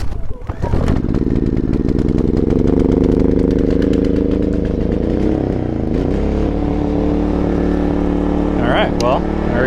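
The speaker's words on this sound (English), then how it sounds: "Let's see if it'll fire up on propane." A generator engine starting on propane with its battery disconnected: a brief cranking burst, then a loud, steady running drone close by that holds for several seconds, with faint clicks and rattles near the end.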